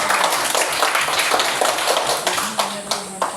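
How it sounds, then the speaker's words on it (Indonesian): A classroom applauds a student group during an academic coaching session: dense, brisk clapping from several hands that thins into a few scattered claps near the end. "tepuk tangan buat kelompok rambutan"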